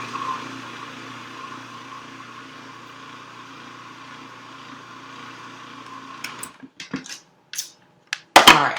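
A food processor runs steadily blending hummus, a continuous mid-loud motor whir that stops near the end, followed by a few scraping clunks and a sharp knock.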